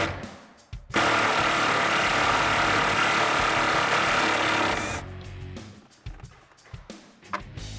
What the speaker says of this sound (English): with the use of an 18mm socket, we're gonna go ahead and get the nut off of the latch side